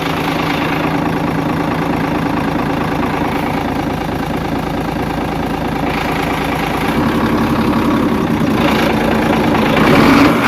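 Diesel engine of a Howo truck idling loudly and steadily at close range while the gears are tested after a clutch plate replacement, a low rumble with slight swells toward the end.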